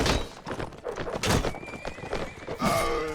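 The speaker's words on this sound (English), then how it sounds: "Oh, there goes my horse." Horse neighing in the Mount & Blade Warband video game, a loud whinny rising over clip-clop hoofbeats and battle noise, with a second whinny near the end.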